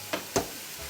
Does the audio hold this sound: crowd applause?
no